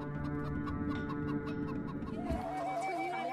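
A common chicken clucks in a run of short, evenly spaced calls over a steady tonal hum, moderately loud and with no voices.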